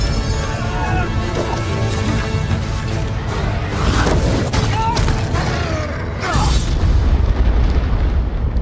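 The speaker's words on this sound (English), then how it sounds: "That, my lad, was a dragon." A deep dragon rumble sound effect from a Hobbit movie trailer: a loud, dense roar of booming, crashing low tones that swells and churns without a break.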